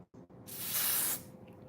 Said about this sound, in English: That's why normally I put this spray before I do my makeup